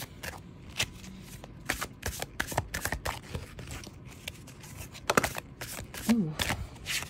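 A Greek mythology tarot deck being shuffled by hand, giving repeated crisp riffling card flicks in uneven bursts, close and clear, with a brief voice sound near the end.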